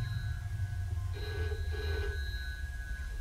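A telephone rings in the video game Journey To The Tyriades Gate, with a steady electronic bell tone and a brief burst of ringing over low background ambience.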